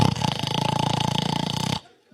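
Loud snoring in a train sleeping compartment, heard as a fast, buzzing flutter of rattling breaths for under two seconds that then cuts off to near silence.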